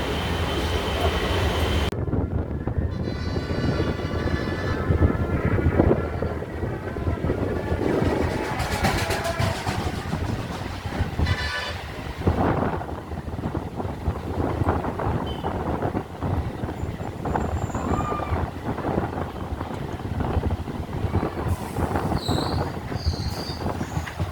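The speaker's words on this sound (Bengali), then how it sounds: "যথেষ্ট গতিবেগ নিয়ে আমাদের ট্রেন আমঘাটার দিকে যাচ্ছে আমঘাটা হল্টের দিকে" A train, a Krishnanagar to Amghata halt service, runs at good speed, with a steady loud rumble and wheel squeal heard from on board, continuous throughout with rattling and brief high screeches.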